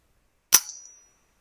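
A single sharp crack from an FX air gun fired at a grey squirrel in woodland, a sudden loud snap with a short metallic ring fading within half a second, alone in silence.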